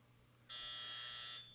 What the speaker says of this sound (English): I know the clock is going to beep